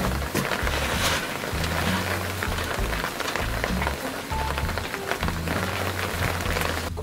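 Hail or ice pellets pattering steadily on a surface outdoors in a snowy cold snap in Aomori, a dense continuous crackle throughout with low rumbling underneath.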